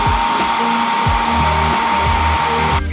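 A heat gun heat-setting paint on a fishing lure blows a loud steady whoosh close by with a thin constant whine, then cuts off sharply near the end.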